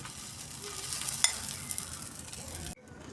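An omelette frying in a little oil in a pan, a quiet, steady close sizzle with faint stirring and one small clink, cutting off abruptly near the end.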